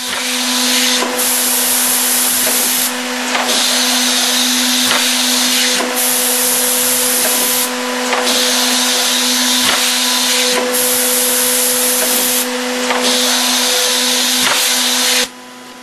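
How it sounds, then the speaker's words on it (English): A CXT pillar machine runs a normal cycle with no parts loaded and its guards and dust collection removed, giving a loud steady motor drone and hiss with periodic surges and clunks every couple of seconds, close and continuous. "The machine is shown here in a normal cycle without parts to see how it operates."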